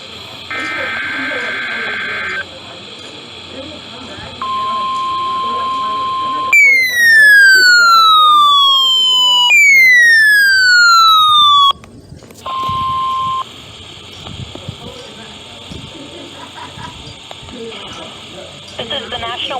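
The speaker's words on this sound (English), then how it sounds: "The signal you just heard was our weekly test of the NOAA Weather Radio Warning Alarm System." A National Weather Service weekly NOAA Weather Radio warning alarm test from Grand Rapids, Michigan sounds as loud electronic tones: steady beeps, repeated falling sweeps and buzzy data bursts, with a voice speaking in between.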